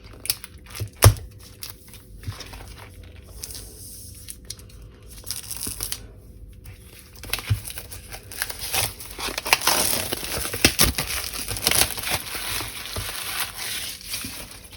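Crinkling, tearing and crumpling of packaging as a Brustro black A5 sketchbook is unboxed, with irregular close bursts of rustle, a sharp rip near the start and a denser stretch of crackling handling later on.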